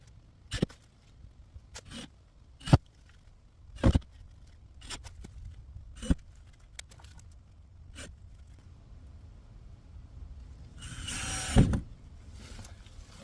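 Screws are driven into a shed window frame. Short mechanical bursts come close together and at irregular intervals, with a longer whirring burst near the end, and no one is talking.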